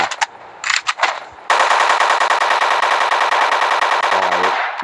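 An AK rifle fires in the zombie video game Flat Zombie: a few separate shots, then a long rapid burst of loud automatic gunfire that runs on for several seconds without talk.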